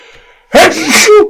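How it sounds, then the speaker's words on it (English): One loud, sudden human sneeze close to the mic: a short sharp intake, then an explosive burst that trails off, following a near-silent pause. "That was a proper sneeze."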